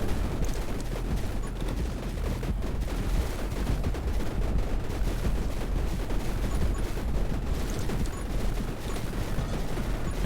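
Continuous rapid gunfire from the top-down shooter 20 Minutes Till Dawn, a dense steady stream of shots running the whole time at a constant loud level, with no pauses and no voices.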